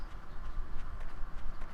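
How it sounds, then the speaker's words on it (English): Rapid, soft footfalls of a pig running in the 7 Days to Die video game patter continuously for under two seconds over a dense background rumble. "Pig, stop running."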